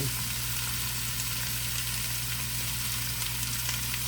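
Steaks seasoned with lemon pepper frying in a pan, a steady dense sizzle lasting throughout, loud and close, over a constant low hum.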